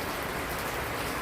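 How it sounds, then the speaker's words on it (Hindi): Steady rain falls outside a shelter on a Narmada riverbank pilgrimage route in late February, a continuous even hiss of drops close by, with no talk over it. "अब यहाँ पर बारिश शुरू हो गई है, देखिए पानी गिर रहा है बाहर में।"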